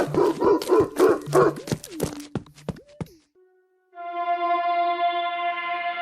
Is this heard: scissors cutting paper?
no